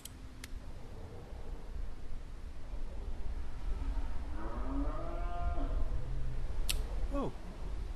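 Cattle mooing outdoors, several drawn-out lowing calls rising and overlapping in the middle against a constant wind-like background hiss, with a couple of sharp clicks.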